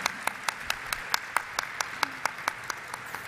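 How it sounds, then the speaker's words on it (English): Applause at a stock exchange listing ceremony for Aadhar Housing Finance Limited: a modest crowd claps in a steady rhythm of distinct, fairly close hand claps, with no voices over it. "let's have a huge round of applause for Aadhar Housing Finance Limited team"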